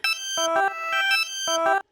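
A synthetic, pitched vocal sample chopped into rapid, stepping arpeggiated notes, bright and rhythmic, playing alone.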